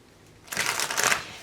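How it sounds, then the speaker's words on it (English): A deck of oracle cards is shuffled once in a brief, close riffle lasting under a second, a crisp fluttering burst after a quiet pause. "One more shuffle."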